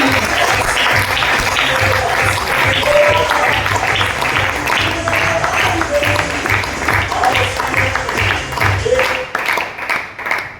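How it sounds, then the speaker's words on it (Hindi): Sustained applause from a large seated audience as royalty achievers are called onto the stage at an awards event, a steady wash of clapping with crowd voices and music mixed in, fading near the end. "तालियां हल्की होंगी।"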